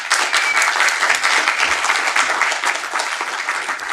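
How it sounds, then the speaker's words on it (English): A conference audience gives a speaker a dense, sustained round of applause that stays steady and fairly loud for the whole stretch. "So please join me in an applaud for her and inviting her to speak."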